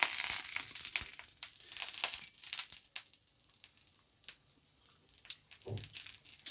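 Crunching of lightly cooked, still-crisp vegetables with small flowers inside, bitten and chewed up close in a run of dry crackling crunches that thins out toward the end, with no voices.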